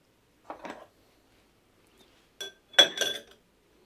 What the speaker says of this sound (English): Now we're going to strain this into a rocks glass using 1 large sphere of ice